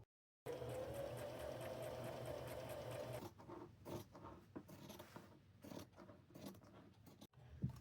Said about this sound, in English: I'm going to take it to my machine, and I'm going to sew my little Santa Claus on